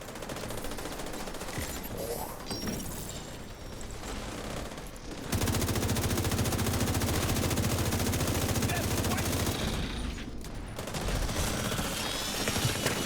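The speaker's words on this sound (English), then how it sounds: "There's that warhound exploding." Warhound enemy blowing up in a video game, a dense roar of rapid gunfire-like bursts and explosions that jumps louder midway and stays sustained, with game sounds layered throughout.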